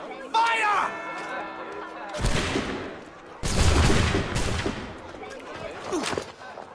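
Musket volley in Assassin's Creed 3: two loud broadband bursts of gunfire ring out amid shouted voices and orchestral tones, with a further crackle of shots near the end.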